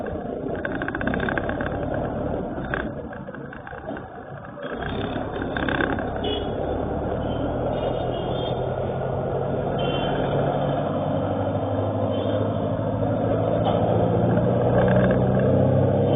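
A vehicle engine runs steadily while warming up, a continuous mid-pitched idle with rumble that holds at an even loudness throughout, with faint background noise on a road setting in Karnataka.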